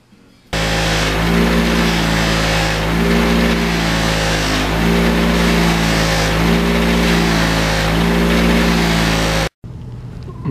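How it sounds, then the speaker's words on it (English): A buffing wheel polishes a high-grade steel nut from a motorcycle's disc and sprocket hardware, a loud steady motor whine with rhythmic surges roughly every two seconds as the part is pressed on, then stopping abruptly near the end. "I'm just going to hold this, run this on the buffing wheel, but not in a way that it's loosening the nut"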